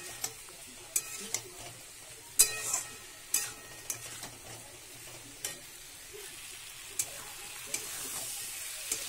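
Spice paste with chopped tomato and a little water is sautéed in a pan for a rohu fish curry, a soft hissing sizzle broken by irregular sharp spatula scrapes and taps against the pan, close but fairly quiet, with no voices.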